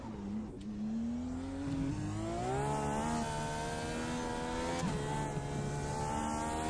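A race car pulls out of the pit box on the Detroit street circuit, its engine revving steadily and rising in pitch through the gears, loud and close, with no talking.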